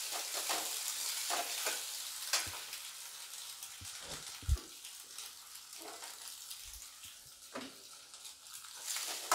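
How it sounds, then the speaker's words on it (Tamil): Chopped boiled eggs sautéing in a pan for Tamil-style egg curry, giving a soft continuous sizzle broken by occasional knocks and scrapes of a spoon stirring. "இந்த முட்டை இப்படியே போட்டு வதக்கினா தான் டேஸ்ட் வரும்"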